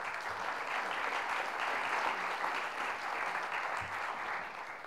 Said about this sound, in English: Shall we all give them a round of applause?